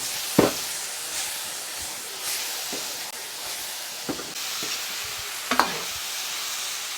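Crayfish tails hiss and sizzle loudly as they hit hot chili oil and get stir-fried, with a steady frying roar broken by several sharp scraping stirs of the spatula.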